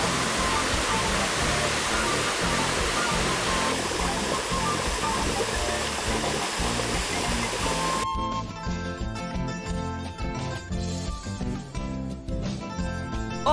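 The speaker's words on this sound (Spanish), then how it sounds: "Diez minutos más arriba de ellas encontramos otra linda caída de agua" A roadside waterfall in San Julián, El Salvador, gives off a dense, steady hiss of falling water, close and loud, continuing without a break and shifting in texture partway through, with no talking.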